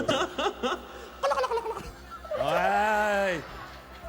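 A person's voice imitates a turkey gobble with a rising, wobbling call, following brief chatter and laughter.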